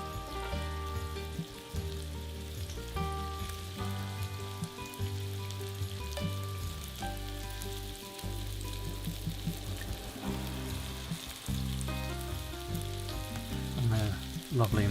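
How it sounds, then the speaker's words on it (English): Wild boar burgers sizzle and fry in a pan with a dense, steady crackle and spitting fat, and musical tones play underneath throughout. "Lovely and sizzling there in the pan."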